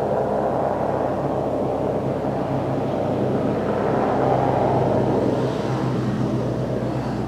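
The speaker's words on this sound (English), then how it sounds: "We got some traffic going by here." Traffic passing on Dripping Springs Road near Winkelman, Arizona, a continuous broad rumble of tyres and engines that swells slightly midway, moderately distant and steady, with no voices.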